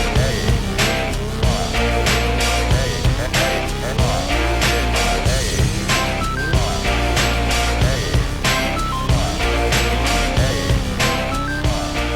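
Volkswagen cars racing up a drag strip at the Bug Jam VW festival, engines roaring loud and continuous with rising revs, tyre squeal and passing vehicles, heard close throughout with no speech.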